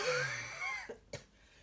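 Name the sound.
cough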